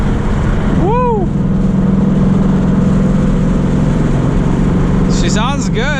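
A 2019 Ford Mustang GT on a cold mountain road, its engine droning steadily and close throughout, with a couple of rising whoops of a voice over it.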